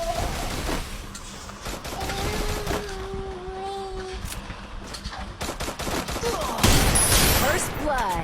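Desert Eagle pistol shots crack out in a video game as a scattered series of sharp reports amid busy game noise, with a tonal in-game sound partway through and a louder burst near the end.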